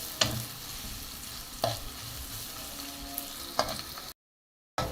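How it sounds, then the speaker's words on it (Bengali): Two onions fry in a pan for prawn malai curry, a steady close sizzle with three sharp stirring scrapes spaced about every one and a half seconds, no voices, ending in a brief silence. "পেঁয়াজটা আমি এখন ব্রাউন করে ভেজে নিব"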